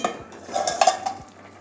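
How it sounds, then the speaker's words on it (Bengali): A metal lid comes off a pot of simmering pumpkin, potato and eggplant, making a few light clinks and a scrape of metal on metal, brief and close. "এবারে ঢাকনাটা খুলছি"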